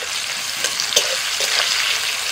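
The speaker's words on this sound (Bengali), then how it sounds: "আবারও কড়াইতে তেল দিয়েছি, এবার তেলের মধ্যে দিয়ে দিচ্ছি পেঁয়াজ কুচি" Chopped onions fry in oil in a wok, a dense, loud, continuous sizzle with a few brief stirring scrapes, and no voices.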